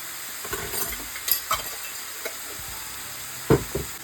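Finely chopped onions frying with ginger garlic paste for paneer butter masala: a soft, steady sizzle broken by intermittent stirring scrapes and clinks, close and fairly quiet, with no talking.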